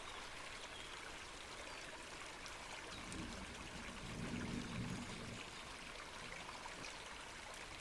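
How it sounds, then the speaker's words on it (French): A mountain river flows steadily beside a small path past large ferns, a continuous soft rushing and trickling of water with a slight swell midway, no voices. "Le bruit de l'eau devient moins présent."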